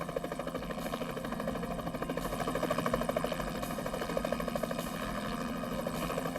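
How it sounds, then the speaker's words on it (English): Helicopter fitted with an infrared heat-seeking system, its rotor thudding in a steady rapid pulse over a dense engine whine, loud and continuous with no voices. "they provided me with a helicopter equipped with an infrared system"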